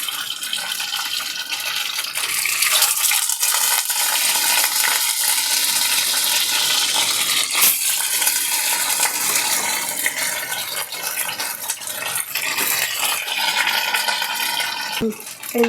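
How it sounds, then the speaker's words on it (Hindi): Soya chaap pieces, stuffed with paneer, frying in smoking-hot oil in a pan, giving a loud, steady sizzle with dense crackle and spatter that runs without a break for the whole stretch, no voices over it. "अब हम इसमें तलने के लिए चाप डालेंगे।"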